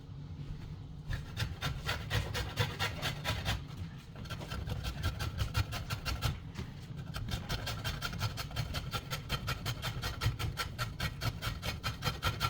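A hard avocado seed is scraped on a sharp hand grater, a continuous close rasping in fast regular strokes with a couple of brief pauses, steady and gritty throughout, no talking.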